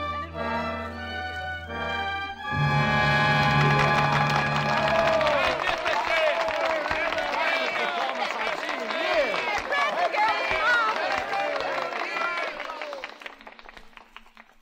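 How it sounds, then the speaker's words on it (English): Studio audience applause at the close of a Lux Radio Theatre play, Stage Door, swells up loudly after a held musical chord and continues as a dense, sustained wash of clapping for about ten seconds before fading, with music underneath. "And I know that I'm grateful for your applause."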